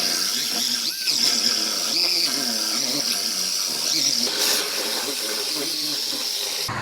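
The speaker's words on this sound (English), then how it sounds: "So I'm gonna go ahead and get this outer panel cut off" A car's outer body panel being cut away with a high-pitched air cutting tool, a sustained piercing whine with hiss and squealing metal grind, close and loud throughout.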